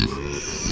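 A pig on a farm grunts close by in a short, continuous low rumble that runs steadily across the moment, with no talking over it.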